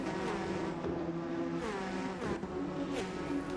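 Bentley Speed 8 race car engine in Assetto Corsa, a loud, steady, close engine drone that shifts pitch several times as it changes gears, with no other sounds.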